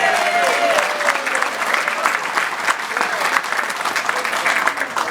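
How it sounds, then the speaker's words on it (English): Party guests at a roast give a sustained round of applause, steady dense clapping throughout with a few whoops mixed in. "let's give her a round of applause"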